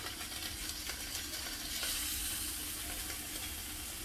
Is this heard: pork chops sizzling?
yes